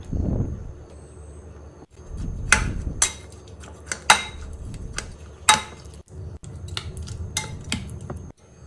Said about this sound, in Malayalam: കത്തിരിക്കയുടെയും തക്കാളിയുടെയും തൊലി മാറ്റി കൊടുക്കുക ഇനി ഇതൊന്ന് ഉടച്ചെടുക്കാം